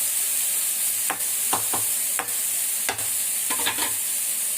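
Tomatoes sauté in a pan for kollu rasam, a steady close sizzle broken by several sharp scraping strokes of a spoon stirring through them, no voices over it.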